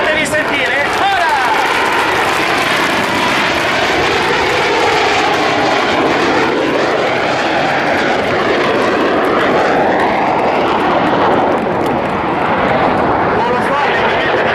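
Frecce Tricolori solo jet making a loud pass at an airshow in Italy, a roaring engine sweep that rises and falls in pitch for about fifteen seconds, with an announcer talking over it throughout.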